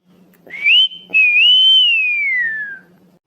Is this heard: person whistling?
yes